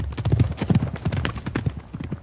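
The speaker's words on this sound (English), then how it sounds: "Then he spun his horse and kicked its flanks. He galloped out of Dodge before anyone knew what happened." Horse hooves pound in a fast galloping clip-clop rhythm, close and loud, with a brief whinny-like note mixed in and no speech.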